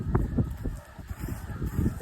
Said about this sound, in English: There's thousands of geese.